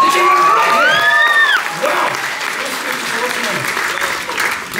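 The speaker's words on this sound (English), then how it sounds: "Give him a massive round of applause" A cruise-ship audience breaks into loud, sustained applause with whoops and whistles for a man called up on stage, the clapping steady and dense right through to the end.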